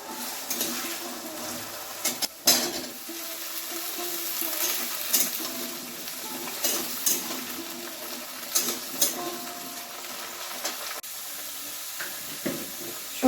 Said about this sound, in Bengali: আলু ফুলকপিটা ভাজা করার জন্য বসিয়ে দিলাম।